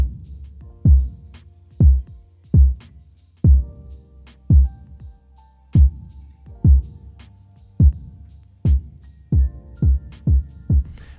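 A synthesized kick drum built in Serum thumps about thirteen times in an uneven pattern, each hit a deep, punchy boom with a short reverb tail, heard alone.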